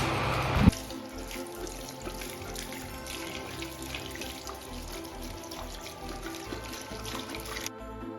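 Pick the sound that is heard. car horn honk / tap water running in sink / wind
tap water running in sink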